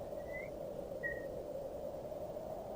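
Faint whistling in a Kirby video game, two short rising whistle notes over a steady droning hum of blowing air.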